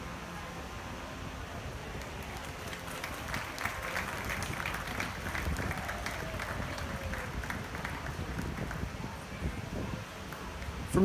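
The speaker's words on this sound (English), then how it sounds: "make sure to give these exhibitors a big round of applause when I do" A crowd at a youth dairy cattle show gives a steady round of applause, soft and distant in a large arena, a sustained patter of clapping under faint background murmur.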